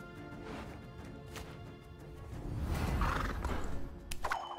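Roach the horse from the Gwent card game lets out a neigh and whinny over game music and effects, a short, moderately loud horse call near the middle of the clip.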